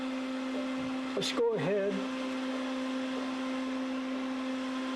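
A stepper motor runs on an encoder tester with a steady tonal whine that sweeps up and down in pitch as its speed changes, while someone talks briefly over it.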